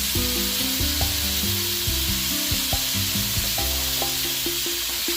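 Cauliflower and carrots fry in a pan for chop suey, giving a steady close sizzle with occasional stirring and scraping, all under continuous background music.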